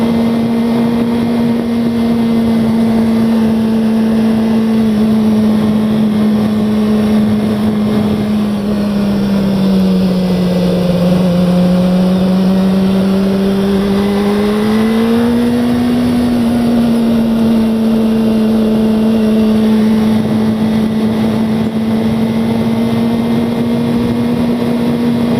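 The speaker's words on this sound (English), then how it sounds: "let's just listen to that engine." A motorcycle engine droning steadily while riding through a canyon at night in cold weather, loud and close, its pitch dipping and rising slightly with throttle changes, with wind rush underneath.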